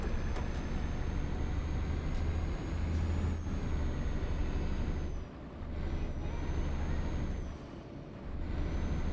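A heavy truck in Euro Truck Simulator 2 brakes hard, a Volvo rig giving a sharp air-brake hiss over a steady low engine drone, with a brief dip in the rumble before it resumes; no one speaks.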